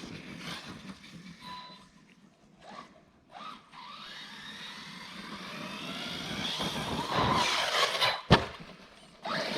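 Team Corally Jambo RC car driving toward a jump on Backflip LP wheels and tires, its electric motor whining and rising in pitch as it speeds up, ending in a sharp thud of impact, faint at first then louder and nearer.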